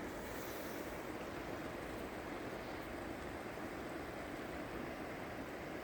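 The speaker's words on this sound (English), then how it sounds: "This river has flooded my whole" Rain-swollen river in flood after heavy rain, rushing over a walking trail; a steady, dense roar of churning water with wind buffeting the microphone, continuous and close throughout.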